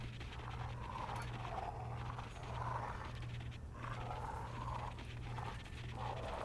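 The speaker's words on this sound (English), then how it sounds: "Dog's definitely smelling something." A sniffer dog in the prison-management game Prison Architect snuffles and sniffs in repeated short bursts over a steady low game hum, with no speech.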